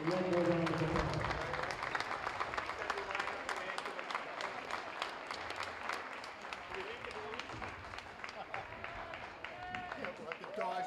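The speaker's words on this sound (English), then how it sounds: "Please join me in giving them one more round of applause." A crowd applauding steadily at a varsity high school basketball game, dense clapping sustained throughout with some voices mixed in beneath it.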